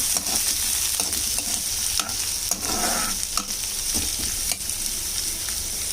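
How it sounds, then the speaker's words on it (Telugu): Chopped onion frying in hot oil, giving a loud continuous hiss and crackle close at hand, broken by occasional scrape-and-stir sounds from a spatula, and no voices are heard. "ఇప్పుడు ఆయిల్ వేడైన తర్వాత ఒక ఆనియన్ వేసుకోవాలి."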